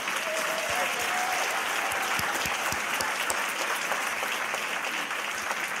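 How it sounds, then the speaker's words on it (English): At a San Mateo County convention and visitors bureau luncheon, an audience claps steadily for award winners, with dense, even applause running the whole time and a few sharper individual claps standing out. "How about a round of applause for all those winners?"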